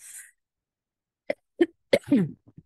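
A few short, sharp coughs come close and alone after a quiet pause, with one slightly longer throat burst at the end.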